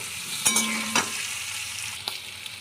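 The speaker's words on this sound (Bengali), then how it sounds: "আলু ভাজবো, আলুগুলো ভেজে নিচ্ছি।" Boiled potatoes, seasoned with turmeric and salt, frying in a pan with a steady close sizzle and a couple of brief stirring scrapes.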